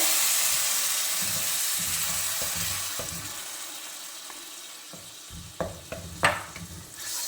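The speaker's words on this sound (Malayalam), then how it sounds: "ഇതിനകത്തോട്ട് നമ്മുടെ തക്കാളി നമ്മൾ അരച്ച് വെച്ചത് ചേർത്ത് കൊടുക്കാവേ" Ground tomato hits frying masala in a pan and sets off a strong, steady sizzle that slowly fades. A few sharp spoon clanks against the pan come near the end.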